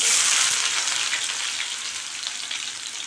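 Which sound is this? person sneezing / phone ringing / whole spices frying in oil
whole spices frying in oil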